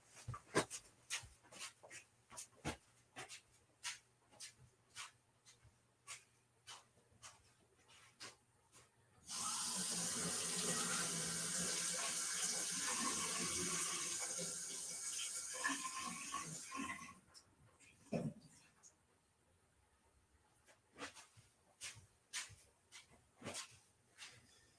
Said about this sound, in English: I'm going to rinse this off, get some of the water out